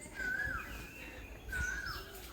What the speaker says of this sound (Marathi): आणि आवाज बघा पक्ष्यांचा